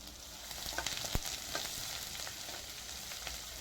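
Egg fried rice being mixed in a hot pan, giving a steady sizzling hiss with faint scraping stirs throughout, fairly quiet and without talk.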